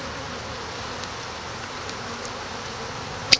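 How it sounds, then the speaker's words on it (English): Honeybees in an active hive give off a steady, soft, close buzzing hum throughout, ending in a brief sharp click. "So much activity in the hive."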